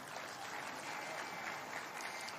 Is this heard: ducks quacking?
no